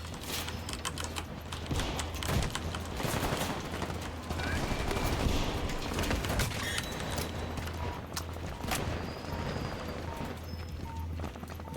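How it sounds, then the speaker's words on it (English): Double-barrel shotgun blasts and rapid gunfire in the video game Combat Champions, dense sharp reports clattering through a continuous loud battle din with no clear pauses. "this is why you use the double barrel shotgun"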